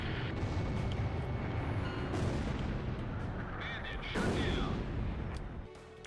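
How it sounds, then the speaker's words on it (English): Cannon fire in the video game Ace Combat Zero: a dense, loud rapid burst of gunfire with sharp blasts rising over a constant roar, then cutting off near the end. "I'm breaking cannon all over the place with this playthrough."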